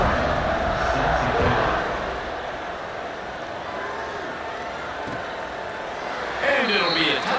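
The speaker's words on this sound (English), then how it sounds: "this crowd is buzzing after that last score" Stadium crowd at a college football game between Stanford and UNC buzzing steadily after a touchdown, a broad, loud roar of many voices that swells near the end, with a commentator talking over it.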